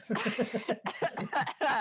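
A rapid series of about ten dry coughs in a fit, close and loud, with a few brief pauses between bursts.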